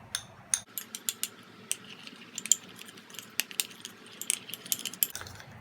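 Rapid, irregular clinks and scrapes of a utensil stirring homemade hand cream with vitamin E oil in a small container, close and fairly quiet, with no talking.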